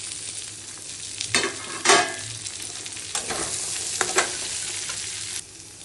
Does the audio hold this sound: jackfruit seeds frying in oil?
yes